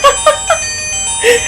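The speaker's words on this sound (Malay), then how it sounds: "Nak try macam mana bunyi dia bila kita call." A tiny mobile phone's bright, cute electronic ringtone of quick chiming notes, three short blips then a longer tone, close and clear.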